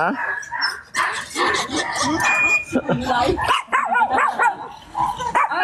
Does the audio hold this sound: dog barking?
yes